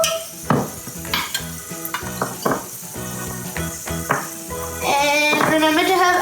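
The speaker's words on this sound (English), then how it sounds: "We'll add our ginger paste to this." Ginger paste hits hot butter in a pan with a spoon stirring: a steady sizzle and frying crackle, broken by repeated scraping and clinking of the spoon against the pot, growing louder toward the end.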